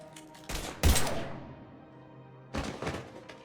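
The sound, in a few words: gunfire in Mass Effect 3 video game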